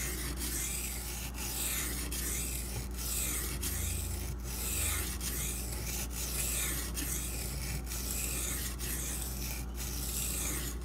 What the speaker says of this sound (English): It's gonna take a little bit of grinding to get that all evened out.